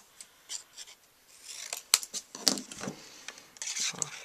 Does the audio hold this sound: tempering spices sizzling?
no